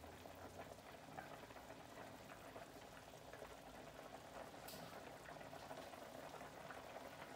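A pot of water at a full rolling boil for Pennsylvania Dutch chicken pot pie, bubbling and churning steadily and up close for the whole stretch, with no voices over it.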